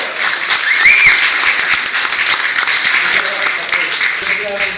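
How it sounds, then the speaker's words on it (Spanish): Audience applause at a rock event in a museum, moderately loud clapping mixed with cheering voices and a brief whistle. "Un gran aplauso."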